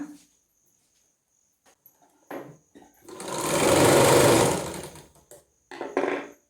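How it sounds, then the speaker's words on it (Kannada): A domestic sewing machine starts up after its shuttle has been cleaned of tangled thread, giving a steady whirring run of about two seconds, loud and close, with short mechanical clicks and bursts before and after. "ನೋಡಿ ಮಷಿನ್ ಒಮ್ಮೆ ಓಡಿಸಿ ಸರಿ ಆಯಿತು ಅಂತ ಚೆಕ್ ಮಾಡೋಣ."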